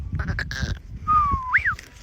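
A single wavering bleat from a sheep in a flock on a farm, loud and close, following a moment of people talking.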